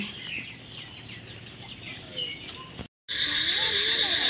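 Chickens at a poultry farm clucking and calling repeatedly at close range, with a brief silent gap midway before louder, sharper cackling resumes.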